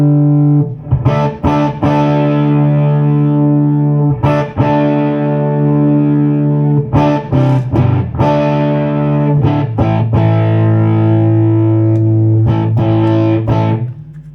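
A distorted electric guitar through a Hagstrom Bass 210 amplifier with tone set fully up, a thick, muddy, bass-heavy tone as chords and notes ring and change.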